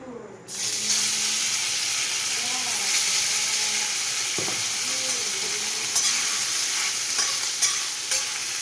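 Marinated chicken coated in sauce, ginger, garlic and pepper drops into hot oil and fries with a loud, steady sizzling hiss, close up, with occasional pops and faint clinks over the continuous crackle.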